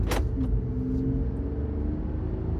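A Jeep pulls away from the Windrock Jeep Outpost, its engine giving a steady low rumble close by with a brief sharper burst at the start, no talking.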